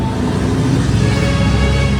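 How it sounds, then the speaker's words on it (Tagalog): Vehicles pass on a highway in San Rafael, Tarlac City, making a loud, continuous rumble and engine roar close by, with no voices over it. "Ingay ng mga sasakyan dito."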